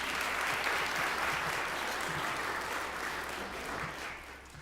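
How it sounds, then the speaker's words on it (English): An audience applauds a concert band at a December concert, a dense, sustained clapping that fills the room and starts to taper off toward the end. "One more round of applause for them for that one."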